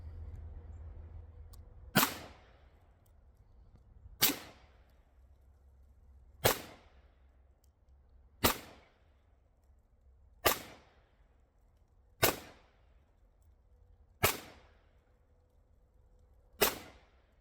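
A PSA Rock 5.7 pistol fires at a shooting range, eight sharp, loud single shots spaced roughly two seconds apart, each cracking out and decaying over a low steady background hum.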